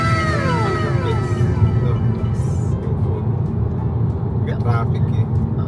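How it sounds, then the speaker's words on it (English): Street traffic in the UK: a constant low engine and road rumble from nearby vehicles, with some higher tonal whines and distant clatter layered on top, fairly loud throughout. "Traffic, eh."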